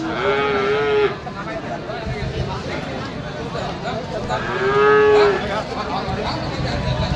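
A Nepali cow at a cattle market lets out two loud, near moos, one at the start and another around the five-second mark, over steady crowd noise and background chatter.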